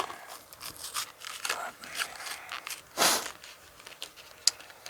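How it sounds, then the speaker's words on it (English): Scissors snip and crunch through a stiff plastic package at close range: a run of short, crisp cuts and crinkles with a louder rip near the middle, with a voice speaking partway through. "get a pair of scissors for these."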